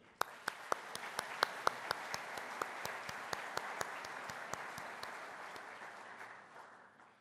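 Applause from a large audience at an exporters' general assembly addressed by the Turkish president, a dense sustained wash of clapping with a few sharp, distinct nearby claps standing out in a steady rhythm, slowly fading toward the end.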